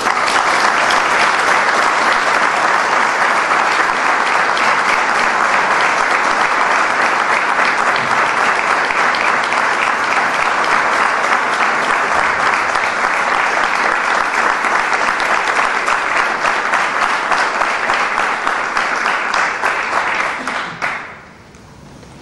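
Audience applause at a ceremony honoring Malvinas veterans and fallen soldiers: loud, dense, steady clapping from a large crowd that carries on for about twenty seconds, then cuts off abruptly.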